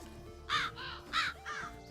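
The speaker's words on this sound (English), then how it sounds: "There are crows on the game." Crows caw in a Minecraft modpack video game, three harsh, evenly spaced calls over a steady low ambient game hum.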